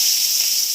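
A bay leaf dropped into hot oil, cooking luchi and ghugni, gives a steady close hiss with no break and no voices.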